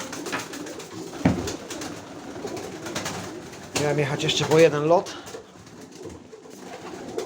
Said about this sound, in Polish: Są 200 gołębi.